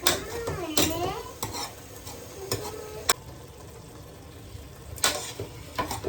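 Cooked, softened petha pumpkin being mashed with a spoon in a pot, giving scraping, knocking and clinking of spoon against the metal pot in irregular bursts, with a faint sizzle underneath.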